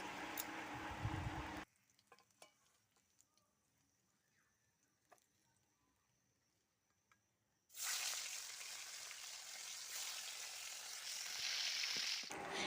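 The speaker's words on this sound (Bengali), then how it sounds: "বাকি মাছের টুকরোগুলো আমি কড়াতে দিয়ে ভালো করে ভেজে নেব" Pieces of rohu fish fry in refined oil in a wok, giving a loud, dense sizzle that cuts out into near silence for several seconds and then returns strongly.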